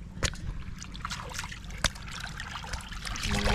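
Water trickles and splashes as something is rinsed, with two sharp knocks standing out over the steady running flow.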